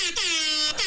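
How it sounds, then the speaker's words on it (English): A rap-style air horn sound effect blares loud and close in a sustained brassy blast, cut by a brief gap and then started again. "Rap air horn."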